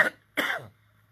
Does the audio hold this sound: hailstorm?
no